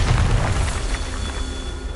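A Bombarda spell blast in the Hogwarts Legacy video game: a deep, heavy boom at the start that rumbles and fades out over about two seconds.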